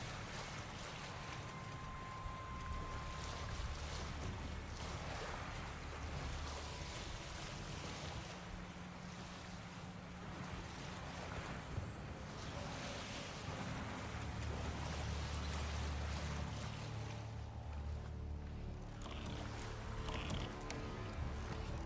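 Sailing a boat across open water in Witcher 3, with a steady wash of waves and wind rushing against the hull, continuous and fairly even throughout, layered with a soft game music bed.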